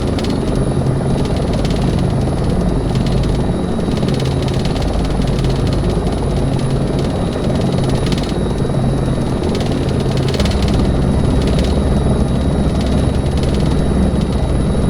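Helicopter engine whine and rotor drone in a desktop helicopter flight sim during a training approach, loud and continuous throughout with a steady tonal hum, no talking.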